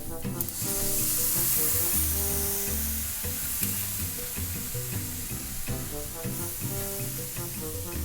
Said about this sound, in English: now we're gonna add 2 cups of milk